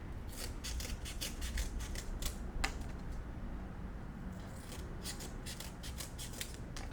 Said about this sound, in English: Just keep cutting.